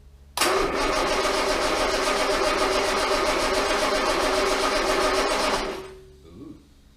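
Armstrong Siddeley Special car engine cranking and trying to start, a loud continuous churning whir for about five seconds, close by, then cutting off with a brief faint tail.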